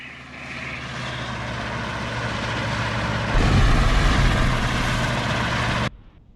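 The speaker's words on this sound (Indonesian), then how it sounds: "Itu pesawat. Pesawat kita." Fixed-wing airplane engine drone, loud and steady, swelling stronger midway as it passes overhead before cutting off abruptly near the end.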